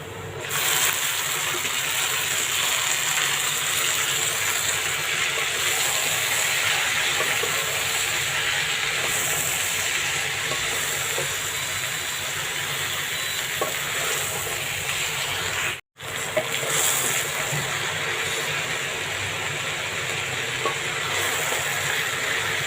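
Water spinach (kolmi shak) hits fried onions in a hot pan, a loud, steady crackling sizzle that runs on without pause except for one brief cut.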